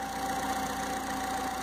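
A 2012 Volkswagen Gol with an electrical fault idles steadily while warming up, a close, continuous mid-low engine drone with a faint regular ticking and no pauses.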